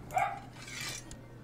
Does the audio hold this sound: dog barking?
yes